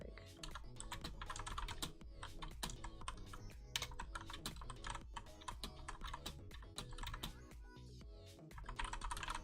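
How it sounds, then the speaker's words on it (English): Fast, continuous typing on a clicky computer keyboard, dense and close-up clacking keystrokes in a steady rhythm with occasional louder presses, no voices. "choose if I want it to be clicky clacky or a little quieter"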